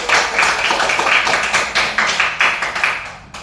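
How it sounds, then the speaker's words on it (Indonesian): A classroom group breaks into a short burst of applause, with dense, close clapping that lasts about three seconds before tapering off. "Oke, tepuk tangan dulu untuk Ali."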